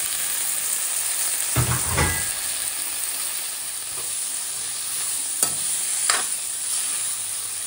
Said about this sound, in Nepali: मसिनो गरी काटेको गोलभेडालाई पनि हालेर लतक्क नभइन्जेलसम्म पकाउने